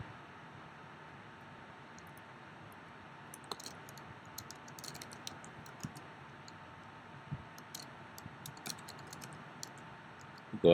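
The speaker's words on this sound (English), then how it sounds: "Go ahead and type this all out." Keys clatter on a computer keyboard as commands are entered for a Raspberry Pi VNC Server install, with quiet, irregular typing taps and a few sharper clicks over a faint background hiss.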